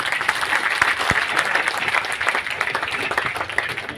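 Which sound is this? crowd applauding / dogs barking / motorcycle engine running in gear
crowd applauding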